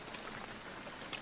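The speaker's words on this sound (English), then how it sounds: "The rain just started, which is good." Steady rain falling through a forest during an autumn blacktail deer hunt in Oregon, a soft, even hiss of drops with no talking.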